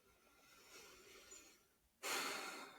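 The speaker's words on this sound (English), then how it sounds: "Just breathing in and out." Slow human breathing during a neck lymphatic drainage and throat massage routine, a soft drawn-in breath followed by a louder, close airy exhale.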